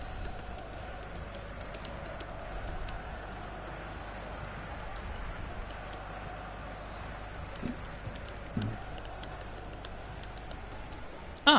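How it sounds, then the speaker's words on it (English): Typing on a computer keyboard during a FIFA 17 match, a soft, steady patter of key presses running throughout under faint game background noise, ending in a sudden louder knock. "I'm busy typing an answer"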